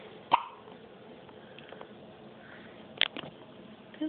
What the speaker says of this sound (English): Those are some grown-up hiccups.